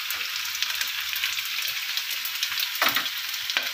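Whole spices including cinnamon, star anise, cloves and fennel tempering in hot oil in a pan, a steady close crackling sizzle with a few scraping stirs near the end.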